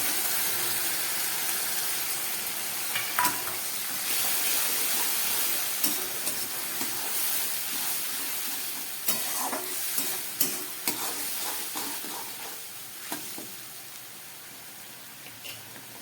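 A ginger, garlic, onion and green chili paste fries in a hot pan, giving a continuous loud sizzle broken by scraping stirs and clinks of the spoon, with no talking.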